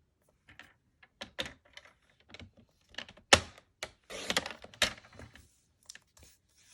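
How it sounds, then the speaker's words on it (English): Scissors snip a flap off craft paper from a November 2020 Paper Pumpkin kit, giving scattered crisp cuts and rustles, with a few louder snips near the middle, close up and without talk. "And I would like to cut this flap off."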